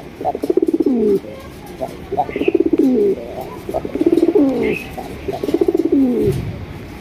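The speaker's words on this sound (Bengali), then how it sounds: "একটা কবুতর ডাকানো কিন্তু খুব মানে অনেক কিছু" A male white-beaked kalsi pigeon coos close by in repeated rhythmic bursts, five or so bubbling, descending calls with short pauses between, set against quiet background noise.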